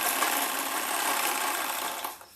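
A sewing machine stitches blouse fabric with a steady, fast, close mechanical whir that runs without a break and slows to a stop at the end.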